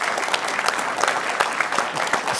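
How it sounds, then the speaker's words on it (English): A live show audience claps in steady, dense applause, crisp and close, continuing unbroken throughout. "And round of applause"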